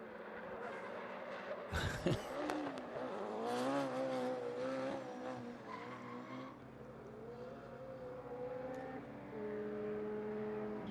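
A 1970s Toyota Stout drifts at the Velocity Invitational, its engine note rising and holding with a sharp burst of tire squeal early on, then a steady strained drone from a moderate distance.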